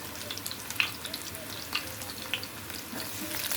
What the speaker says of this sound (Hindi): अब इसके अंदर मैंने लहसुन डालना है, जितना भी मैंने काटा था चॉप चॉप करके।